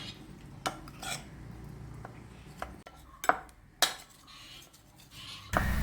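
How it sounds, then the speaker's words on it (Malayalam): Milk being mixed into a batter for banana pudding in a bowl, with intermittent clinks and scrapes of a utensil against the bowl, fairly close and moderately quiet, no talking. "അതിൽ ഒരു 1/4 കപ്പോളം പാലൊഴിച്ച് നമുക്ക് നന്നായിട്ടൊന്ന് ഇത് മിക്സ് ചെയ്തെടുക്കാം."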